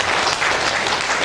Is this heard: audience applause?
yes